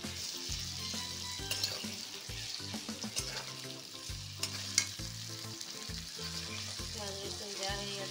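Onion and garlic fry in hot oil in a pan for a fish and papaya curry, hissing and sizzling steadily while a spoon stirs with repeated scraping strokes.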